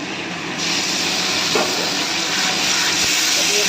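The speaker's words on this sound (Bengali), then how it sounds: "পেঁয়াজগুলো খুব ভালো ভালো করে ভাজা হয়ে গেছে, এবার এই যে মশলাটা দিয়ে দেবো।" A spice mix is tipped into fried onions for a mutton dish, and a steady, loud sizzle and hiss rises and holds with no talk over it.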